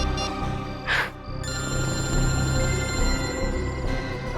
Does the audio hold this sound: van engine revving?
no